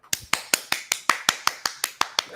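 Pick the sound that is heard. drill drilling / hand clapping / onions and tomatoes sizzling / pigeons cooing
hand clapping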